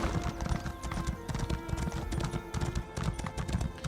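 Steady, rhythmic clip-clop of a horse's hooves at a gallop through a wheat field in Elder Scrolls Online, loud and close, with a brief whinny-like tone over continuous game ambience.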